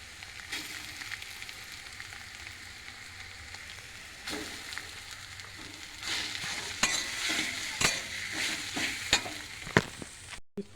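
Boiled potato being stirred and fried with turmeric in a pan, a steady sizzle with scraping spatula strokes that grow busier and louder in the second half, close by with no talk.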